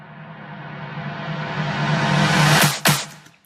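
A custom reversed sample effect in an arrangement: a dense tone swells steadily louder over about two and a half seconds, cuts off abruptly, then a brief final hit lands and fades out.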